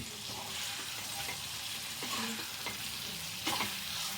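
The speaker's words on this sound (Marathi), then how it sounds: "फिरवून मस्त त्याला मसाला लागला पाहिजे अंडा अंड्याला" Egg curry with four eggs being stirred in masala in a pan, a steady close sizzle with scraping stir strokes and a few sharper clinks from the spoon.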